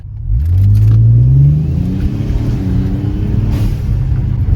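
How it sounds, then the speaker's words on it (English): A Ford Taurus SHO engine revs hard during an acceleration pull, a loud rising roar for about a second and a half that then drops into a steady lower drone, close and with no talking. "let's do a quick pull so you guys can hear the actual sound of the engine off of a rip"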